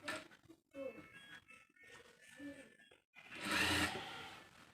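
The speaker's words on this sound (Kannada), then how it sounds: "ಯಾವ ಥರ ಕಡೆ ಎಡ್ಜಲ್ಲೇ ನಾನು ಸ್ಟಿಚ್ ಆಗ್ತಾಯಿದ್ದೀನಿ ಅಂತ ನೋಡಿ" A sewing machine stitches blouse piping right along the folded edge, its quiet mechanical whir running in short bursts and then a louder, brighter stretch near the end.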